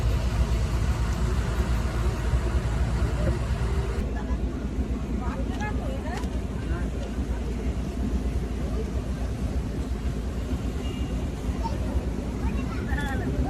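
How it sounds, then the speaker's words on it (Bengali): A passenger launch, the MB Rocket, cruises toward Gosaba in the Sundarbans with a loud, steady engine drone and water rush, and faint voices murmur beneath the constant rumble. "অবশেষে বেলা 10:30টায় আমাদের বোট রওনা দিল গোসাবা উদ্দেশ্যে।"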